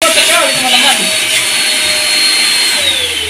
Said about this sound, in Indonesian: wet and dry vacuum cleaner. Ini cocok untuk basah dan kering.